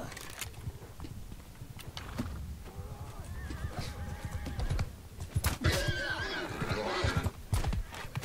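Horse whinnies and clattering hooves ring out amid noisy battle sounds in Mount & Blade II: Bannerlord team deathmatch multiplayer, a loud, busy mix with several neighs.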